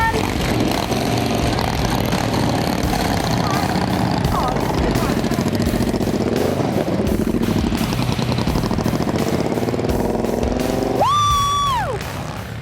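A motorbike ridden by a bikie giving a child a ride, its engine running loudly and steadily close by with rhythmic pulsing, a voice heard over it, then a rising whine near the end as it fades.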